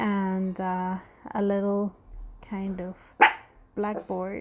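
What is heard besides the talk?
dog barking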